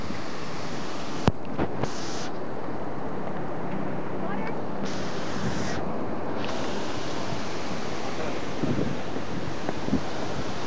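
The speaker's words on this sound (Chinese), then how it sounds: "听到那个水声吗？" Water sprays hard from a small waterfall, a steady rushing hiss heard close up that never lets up, with a sharp tap near the start.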